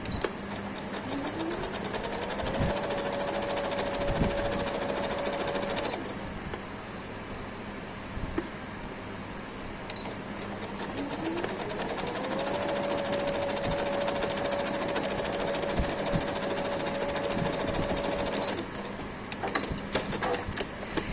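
A sewing machine stitches sleeves onto a baby frock in two steady runs. Each run has a rising then level whir, with brief pauses between them and small handling clicks, and no talk.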